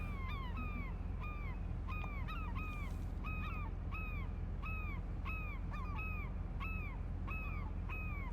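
Birds calling in the Fishing Planet video game at Kaiji No Ri, a steady run of about a dozen repeated crow-like caws spaced evenly over a constant low background drone, fairly close and clear.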